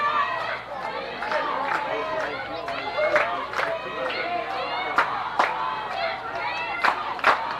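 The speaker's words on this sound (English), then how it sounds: "Yes, Bears chant going in the crowd." A baseball crowd at a high school Class AAA region championship game chants "Bears" in a steady rhythm, answered by sharp, regular claps from the stands, a loud and lively roar with a commentator speaking over it.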